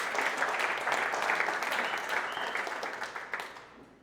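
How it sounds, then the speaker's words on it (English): Applause from a team audience at an all-team meeting, a steady wash of many hands clapping throughout, loud and close, tapering off toward the end. "Round of applause."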